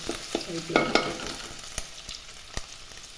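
Ginger and garlic frying in a hot pan for a green chicken curry, with a light sizzle under a few clinks and stirring scrapes of a utensil, moderately close, no talking.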